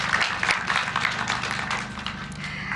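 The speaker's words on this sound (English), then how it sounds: "Please let us applaud our teachers." Applause for teachers at a KCPE examination results release, a steady wash of clapping from a large audience, fairly close and sustained throughout.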